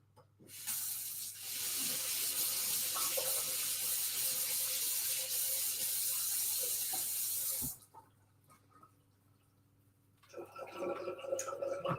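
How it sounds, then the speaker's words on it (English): Tap water runs hard into a kitchen sink for about seven seconds as chives are rinsed under it, then cuts off, followed by quiet handling noises near the end. "Give them a quick rinse."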